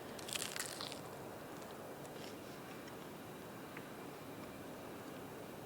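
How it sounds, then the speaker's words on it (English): A short burst of crisp crunching as someone bites into a peach dinger dessert, brief and close, then fading into steady background noise. "Did you hear that crunch?"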